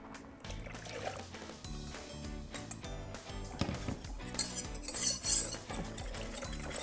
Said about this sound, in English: we're gonna whisk it together just to kind of break up that cornstarch a little